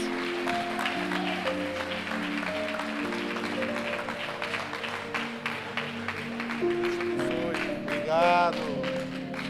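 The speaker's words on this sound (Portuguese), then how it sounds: "aplauda o Rei dos Reis e Senhor dos Senhores." A church congregation claps steadily in rhythm during a worship service, the sharp repeated hand claps sounding over sustained music tones and voices.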